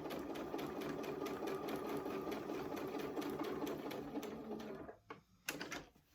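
A sewing machine runs a quarter-inch seam in a steady, rapid mechanical whir with regular needle ticks, then slows and stops in a few short bursts near the end.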